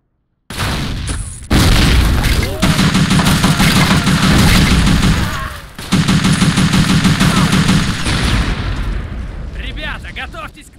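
World War II battle in the video game Faces of War, loud continuous rattling gunfire and booming blasts filling the scene, with brief breaks and distant shots fading at the end.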